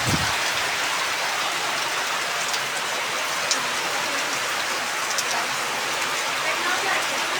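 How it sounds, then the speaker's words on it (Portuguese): Steady rain falling in Itatira, a dense, even hiss of drops on surfaces that holds at the same loudness throughout, with no voices over it. "Levar até você esse registro aqui de chuva."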